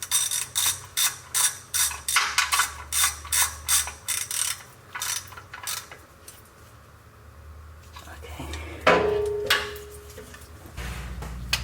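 A ratchet spins on the oil drain bolt of a Toyota 4Runner with about a dozen quick rhythmic clicking pulls up close, then goes quiet before metallic clatter, and someone talks.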